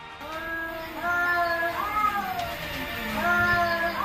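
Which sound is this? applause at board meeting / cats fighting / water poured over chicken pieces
cats fighting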